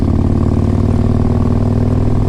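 A 2005 Harley-Davidson Electra Glide Classic with a 1550 big bore kit cruises at 60 mph just over 2,000 RPM, its engine a loud, steady, low throbbing drone heard close up without any voices.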